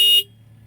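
A Kubota heavy equipment horn gives one short, loud blast lasting about a fifth of a second, then cuts off, leaving only a low engine idle rumbling underneath.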